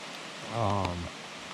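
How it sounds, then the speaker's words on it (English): Rain falls steadily on a backpacking campsite in the Great Smoky Mountains, a soft continuous hiss with a brief tonal sound rising out of it in the middle. "It is started to rain again now."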